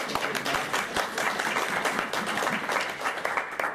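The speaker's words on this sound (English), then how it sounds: "If we got one round of applause." A conference audience gives a round of applause after a speaker, a dense, steady wash of many hands clapping at close range that carries through without a break.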